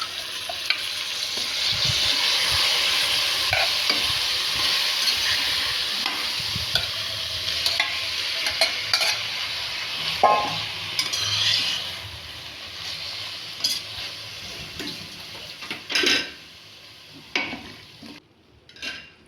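Half a kilo of marinated chicken fries in a pot with tomato and masala for biryani. A close, steady sizzle carries on under repeated spoon scrapes and clinks against the pot, fading somewhat toward the end.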